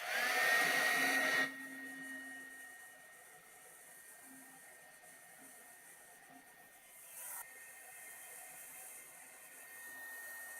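A heat gun shrinks heat-shrink tubing on the wiring of a 1941 Philco 41-285 console radio chassis. A loud blowing rush at the start drops to a softer steady airflow with a thin whine, and small handling rubs and clicks sound under it.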